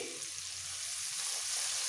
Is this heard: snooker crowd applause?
no